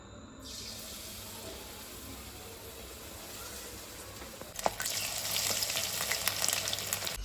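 Marinated chicken pieces fry in hot oil for a Drums of Heaven dish, a steady close sizzle that jumps to a louder, crackling spit about two-thirds through and stays intense to the end, with no talking.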